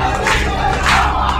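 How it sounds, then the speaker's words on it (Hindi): A large crowd gathers at a vandalised Ganesh temple in Rajasthan, a brief burst of loud, agitated shouting and clamour from many voices close at hand. "देखते ही देखते मौके पर भारी भीड़ जमा हो गई"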